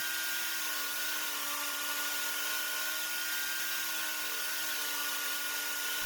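A table saw set to a quarter inch rips walnut and hickory chopstick blanks, giving a steady, loud whine with a constant motor drone and no pauses or speech.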